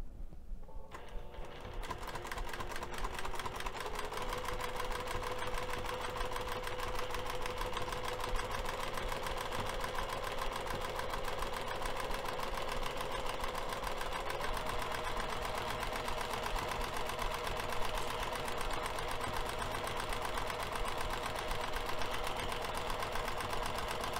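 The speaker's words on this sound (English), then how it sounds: "I'm going to take this over to the sewing machine and machine base the outer edges using 1/8 of an inch seam allowance" A sewing machine basting the outer edges of fabric to foam interfacing with a lengthened 4 mm stitch, a steady fast mechanical whir and rapid needle clatter running continuously and evenly from start to end, close and alone.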